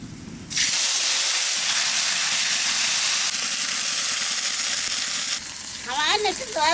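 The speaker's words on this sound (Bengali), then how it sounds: "এইবার বাটা মশলাটা দিয়ে দেবো" Ground spice paste hits hot oil already tempered with black cumin and bay leaf, bursting into a loud, steady sizzle and hiss that fills the pan for several seconds before easing slightly as a voice begins speaking.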